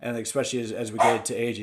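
A dog barking excitedly at a delivery driver arriving, several sharp barks and yips in quick succession close by, overlapping a person talking.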